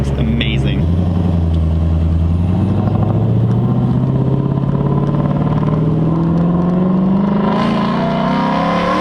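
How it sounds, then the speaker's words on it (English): A loud 2020 Shelby GT500 V8 in track exhaust mode revs and climbs steadily in pitch, a deep throaty exhaust roar that holds throughout, with talking faintly mixed in. "he does have it, the exhaust and track mode, and that just sounds awesome."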